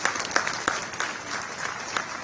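An audience applauds at the launch of a state environment plan in Haryana, a steady wash of clapping with a few sharper claps standing out, continuing without pause.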